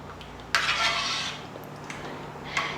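Coconut milk poured into a hot bronze uruli hisses and sizzles for about a second, then fades, followed by a few light metallic clinks of the vessel.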